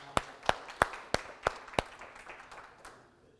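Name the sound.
applause for a doctor's answer at a conference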